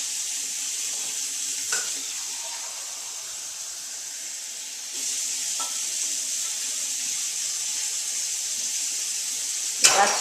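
Very warm water flows steadily from a tap into a container to dissolve yeast, a constant hissing rush with a few light clinks and a sharper knock near the end.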